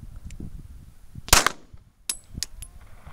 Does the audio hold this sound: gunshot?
yes